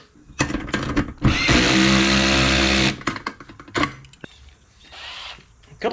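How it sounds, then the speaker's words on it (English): Cordless drill tightening hardware on roof-mounted RV solar panels, one sustained whirring burst of about a second and a half, close and loud, framed by short clicks and handling knocks. "Cordless drill."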